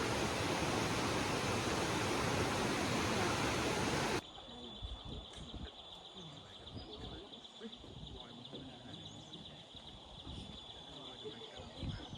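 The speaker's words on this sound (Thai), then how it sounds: "มีแต่เสียงน้ำที่ลำธาร" Steady rushing stream water in Mae Kampong, Chiang Mai, fills the first few seconds loudly, then continues more softly under faint chirping birds and insects.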